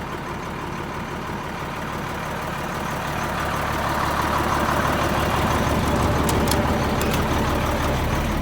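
A dump truck engine idles with a steady low rumble, close by, rising slightly in loudness with no talk over it.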